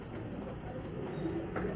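Highflyer pigeons coo softly at a loft in Faisalabad, a low murmuring burble that runs steadily through the short stretch with no voices.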